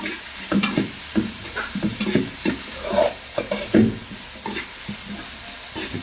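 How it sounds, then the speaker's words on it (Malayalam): Onions frying with curry leaves and salt in a hot pan, close and loud sizzling with repeated scraping stirs at an uneven rhythm. "സവാളയൊക്കെ ഉപ്പൂടെ ഇട്ട് കൊടുത്ത് നന്നായിട്ടൊന്ന് വഴറ്റിയെടുക്കാം"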